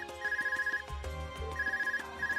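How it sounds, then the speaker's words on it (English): An ARCUS device rings in the video game Trails of Cold Steel, giving off a repeating electronic ringtone in pulsed bursts over game music, with no one speaking. "Is that your Argus ring? What is it doing ringing out here?"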